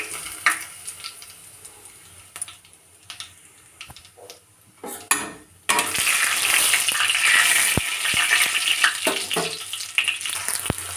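Green chillies, onion and garlic hit the hot oil in a kadai and fry with a loud, steady sizzle, following a few clinks of a spoon against the pan; no talking.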